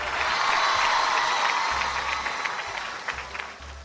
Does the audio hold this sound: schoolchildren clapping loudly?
yes